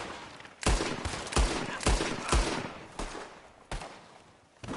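Gunfire in Red Dead Redemption 2 cracks out in a steady series of about eight loud, booming shots spaced roughly half a second apart, close and dominant with little else beneath.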